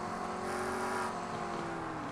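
McLaren GT3 race cars roar in the iRacing sim at Spa, a steady, dense engine drone with shifting pitch as cars run close together, loud and continuous throughout.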